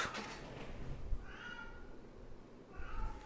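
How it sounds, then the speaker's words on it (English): A cat meows in the background during a podcast conversation, two drawn-out meows at moderate distance over a low room rumble and faint voices. "Is that your cat?"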